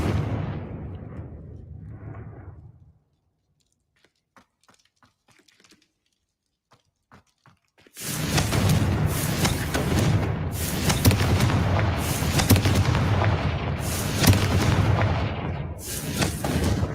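Confringo spell explosions in a video game go off as a loud, continuous barrage of booming blasts, following a rumbling start, a near-silent gap with faint clicks, and then a sudden burst.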